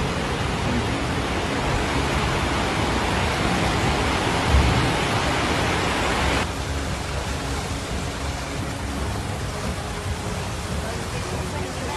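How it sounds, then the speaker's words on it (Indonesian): Heavy rain pours down during a flash flood in Ampana, Tojo Una-Una, Central Sulawesi, a loud, dense, unbroken hiss that holds steady throughout and eases slightly partway through. "Udah hujan"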